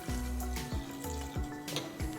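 Half a cup of water is poured into a cooking pot of soaked chickpeas, giving a soft splashing trickle with repeated gurgling glugs, fairly quiet and close, with no speech.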